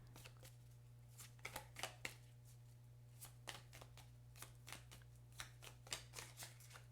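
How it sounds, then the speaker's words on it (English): Quiet riffling and soft slaps of tarot cards being shuffled by hand, in irregular bursts over a low steady hum. "And I'll go ahead and start shuffling."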